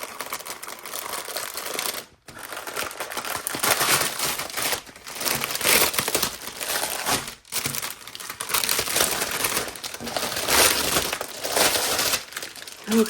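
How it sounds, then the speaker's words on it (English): Plastic packaging around a cross-stitch kit crinkles and crackles loudly and continuously up close as it is pulled open, with two brief pauses in the handling. "Let's go ahead and get this open. Apologize now for the crinkles."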